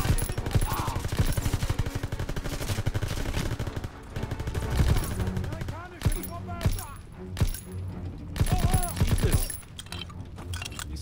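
Rapid bursts of gunfire and sharp shots from Call of Duty WWII combat, loud and dense throughout, with game noise and speech mixed in.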